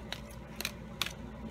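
Psychic Tarot cards being shuffled give three quick, crisp snapping clicks, spaced irregularly against a quiet room hum.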